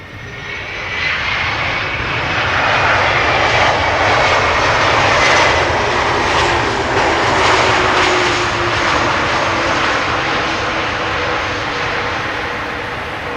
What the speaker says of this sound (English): Delta Airlines 160 arriving from Minneapolis, Minnesota. Delta A330.